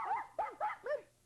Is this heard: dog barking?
yes